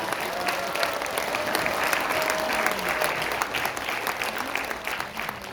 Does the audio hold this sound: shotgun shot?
no